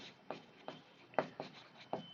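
Chalk or marker strokes on a board during a mathematics lesson on permutations and combinations, with quiet, close taps and scratches in an irregular rhythm of about six strokes and no voice.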